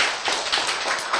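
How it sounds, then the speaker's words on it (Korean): Lecture audience breaking into spontaneous clapping, a dense, fairly loud burst of many hands close by, brief and continuous with no speech over it. "여러분, 왜 박수 쳤어요?"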